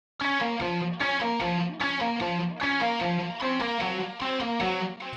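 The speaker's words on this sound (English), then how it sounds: "Next is our distorted guitar." A heavily distorted electric guitar plays a chugging, rhythmic riff of repeated chords, loud and buzzy with no voices.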